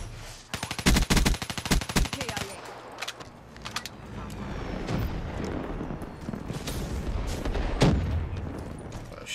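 Gunfire in Black Ops 3, a loud rapid automatic burst followed by scattered shots and booms over the game's background, with someone talking over parts of it.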